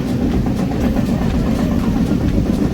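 A train runs steadily on the rails on the way to Karjat, a loud continuous low rumble with faint rhythmic clatter and no voices.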